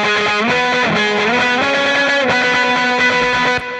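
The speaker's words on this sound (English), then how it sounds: "I'm using that same Vox sound with the drive, but I've got some extra delay and reverb thrown on" Overdriven electric guitar through a Vox amp sound plays a sustained melodic line, its notes trailing into echoing delay repeats and a roomy reverb wash.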